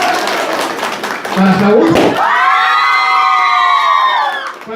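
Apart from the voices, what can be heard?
audience applauding and cheering at a clown show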